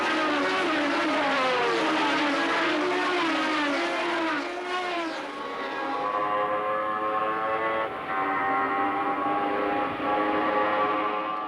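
Formula 1 race cars from 1972–73, Ferraris among them, scream past on track, with high revving engines sweeping in pitch as several cars pass one after another, then a sustained loud whine as the field continues.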